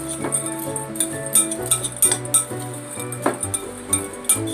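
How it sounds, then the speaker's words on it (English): Blueberries are tossed with a flour mixture in a bowl, giving a run of light clinks and taps against the bowl's sides in an uneven rhythm, close and fairly loud, with no voices. "I'm just going to want to toss these blueberries really quickly and coat them in the flour mixture"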